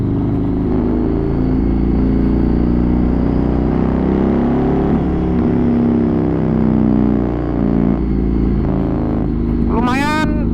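Yamaha MT-01 motorcycle with an Akrapovic exhaust riding on the road, its deep engine drone loud and steady throughout, with someone talking over it and a brief rising whine near the end.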